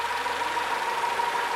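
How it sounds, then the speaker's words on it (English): A two-stroke V8 engine runs steadily, giving a continuous droning hum with a thin sustained whine on top, unbroken and without any talking. "Two-stroke V8."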